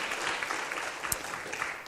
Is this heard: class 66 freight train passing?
no